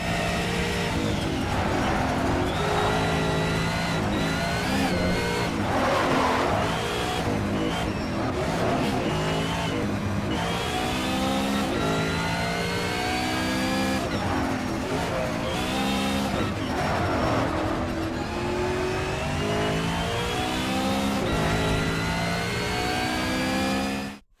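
A BMW GT3 race car at Mount Panorama in the Shift 2: Unleashed video game roars close and loud, its engine revving up through the gears and dropping on downshifts, with tires squealing through corners over a long continuous run.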